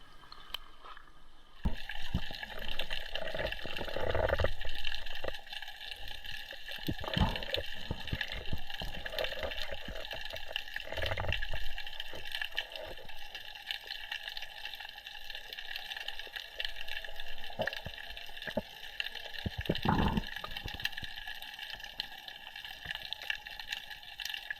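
Water sloshing and gurgling as a spearfisher enters the Adriatic Sea from an anchored paddleboard, a steady close wash with occasional louder splashes and bubbling pulses.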